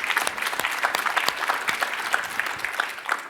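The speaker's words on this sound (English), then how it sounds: "I'm going to give yourselves a round of applause." Audience applause fills a conference hall at a 2022 business summit, a dense steady patter of many hands clapping close and loud without a break.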